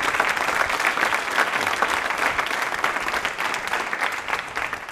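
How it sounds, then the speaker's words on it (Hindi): An audience at a university quiz show applauds a contestant named Rahul, a full and steady round of clapping that runs throughout, heard a little way off with no talk over it. "बड़ी तालियां जोरों से बजाइए राहुल जी के लिए"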